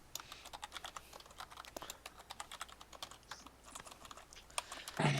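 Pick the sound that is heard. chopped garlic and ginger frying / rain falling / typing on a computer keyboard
typing on a computer keyboard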